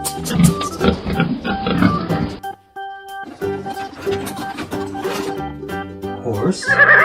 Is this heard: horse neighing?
yes